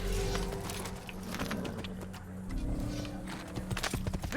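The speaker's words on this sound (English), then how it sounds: "There you are, horsey! Get on the horse." Horse hooves clip-clopping in the Assassin's Creed video game, a rhythmic thudding gait mixed with jingling tack and game ambience, fairly close, no talk over it.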